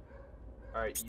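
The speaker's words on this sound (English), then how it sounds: "Why is my dog gonna be barking like that?" A dog in the horror game Devour gives a short, sharp bark at the end of a brief moment, following a few spoken words.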